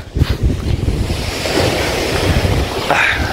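Surf rolling and breaking close by along a seaside boulevard, with steady wind buffeting the microphone throughout.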